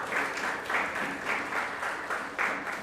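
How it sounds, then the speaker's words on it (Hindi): A church congregation in Mumbai claps loudly and together, the applause swelling in quick rhythmic bursts over a few seconds. "आज जोरदार ताली से इस खुदावन यीशु मसीह को धन्यवाद है"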